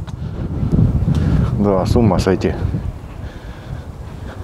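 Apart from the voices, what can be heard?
wind blowing by the water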